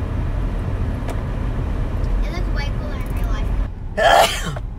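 One sharp, close sneeze bursts out near the end over a steady supercharged car engine rumble, with faint voices murmuring earlier.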